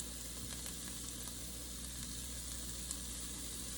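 Bacon sizzles and fries in a pan as a faint, even hiss with occasional tiny pops, the sound distant and low in level.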